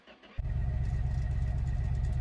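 A car engine with no exhaust manifold fitted starts up in a home garage for the first time and settles into a loud, steady, close rumbling idle with no talk over it.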